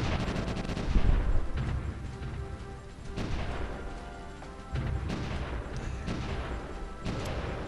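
Gunfire in a WWI battle in the strategy game Supreme Ruler Ultimate, rolling volleys of rifle and artillery-like bursts in dense repeated waves, loud and continuous with no speech.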